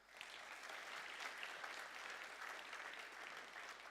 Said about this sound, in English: So a big round of applause for them, please.